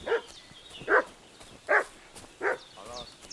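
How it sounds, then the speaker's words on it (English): A dog in Kingdom Come: Deliverance 2 barks four times at a steady, spaced rhythm, fairly close and loud, followed by a softer whine-like yelp at the end, with no talk over it. "What's that dog making such a fuss about?"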